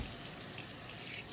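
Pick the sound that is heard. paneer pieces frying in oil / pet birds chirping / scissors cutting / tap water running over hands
tap water running over hands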